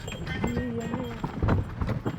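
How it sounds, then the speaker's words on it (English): A horse pulling a carriage carrying hunters through a Romanian forest, its hooves clip-clopping in an irregular rhythm under a steady rumble, with a faint tonal whine and some background voices. "it is still commonplace in Romania that the visiting hunters are driven to their posts by horse and carriage"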